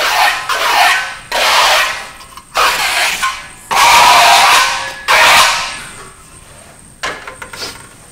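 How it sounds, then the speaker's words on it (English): A trowel or blade scrapes bumps off a FirmoLux Piatto plaster finish coat in five or six loud, rasping strokes of about a second each, separated by short pauses, with no talking. "I'm just taking off some of these bumps that are there, just so that when we trowel the second coat, it just goes on a little bit smoother"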